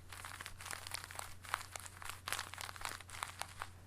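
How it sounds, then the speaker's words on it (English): Magnetic 4x4 puzzle cube being turned, with a dense run of small crisp clicks and crinkly plastic rattles as the layers snap into place, close and fairly quiet. "It's not that strong of magnets. You can hear the click."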